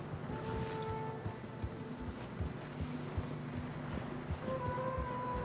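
Horses in Red Dead Redemption 2 plod through deep fresh snow on a narrow mountain path, their hooves making soft, irregular muffled thuds under a steady wind rush, with faint tonal music hanging in the background.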